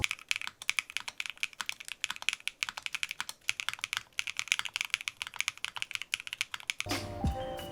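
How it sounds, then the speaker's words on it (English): Rapid, steady typing on a Neo65 Core Plus mechanical keyboard in jade and brass, giving a crisp, high-pitched clacky sound with dense keystrokes, close and alone, before a brief different noise at the end. "That high-pitched clacky goodness that I really enjoy in both of the Neo65 Core and also the Neo65 OG."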